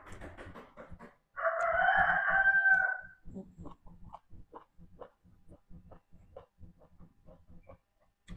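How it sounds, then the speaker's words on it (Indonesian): A rooster crows loudly for about two seconds amid a flock of chickens, with soft clucking and scattered fowl noises continuing before and after. "Berisik ayam."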